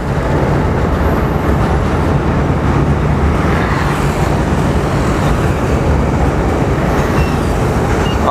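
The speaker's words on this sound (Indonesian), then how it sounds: "Nah, ini ada kereta lewat. Kereta dari Pertamina ya, membawa bensin ini, bensin dan solar." A Pertamina freight train carrying gasoline and diesel rolls past on a street in Yogyakarta, a loud steady roar and rumble of wagons filling the whole stretch without letting up.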